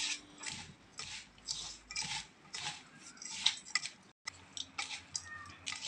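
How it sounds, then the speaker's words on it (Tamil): Grated coconut, jaggery and peanuts mixed by hand for peanut modak (kozhukkattai), giving a steady run of soft, close rubbing and scraping strokes with light clinks, and one brief pause near the end. "இப்போ எல்லாத்தையும் சேர்த்து நம்ம நல்லா மிக்ஸ் பண்ணிக்கலாம்"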